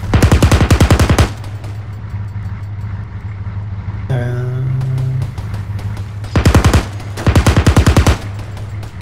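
Loud bursts of rapid automatic gunfire in the military video game ArmA 3, two volleys separated by a quieter stretch with an engine-like hum and a brief whine, no talking.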